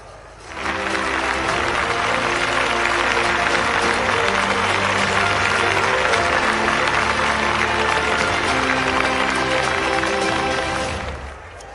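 A large audience applauds loudly and steadily for the Chief Minister arriving on stage at a public development event, a dense wash of clapping that swells in, holds for about ten seconds, then fades out.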